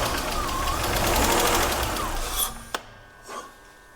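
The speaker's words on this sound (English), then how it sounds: "But the engine sounds good, so I can continue with assembly." An engine runs loud and close with a steady mechanical drone, then cuts out, leaving a couple of clanks and faint noises.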